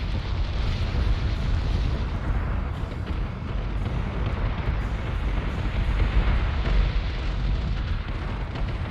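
Heavy warship batteries and flak fire in a Battlestar Galactica Deadlock space battle, a dense, continuous roar of overlapping booms and bursts with no clear gaps.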